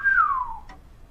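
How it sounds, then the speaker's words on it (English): A single clear whistle glides downward for about half a second, followed by a brief softer chirp, with quiet background between. "I never knew a frog could whistle."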